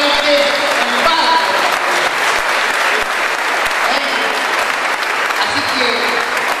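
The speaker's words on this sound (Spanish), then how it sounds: "viene bien para que este aplauso lo escuchemos" A crowd at a tribute event honouring Raúl Sufritti claps loudly and steadily throughout, with regular low bass drum beats and voices underneath.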